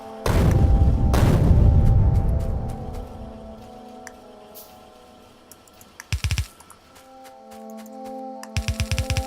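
Grenade explosions in the video game Factorio: a heavy boom near the start with a long rumbling decay, a second burst soon after, then sharp clustered cracks later on, loud and without talk.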